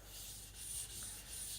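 A knife blade being thinned on a sharpening stone gives a close, steady abrasive rasp in quick back-and-forth strokes, alone and without talk.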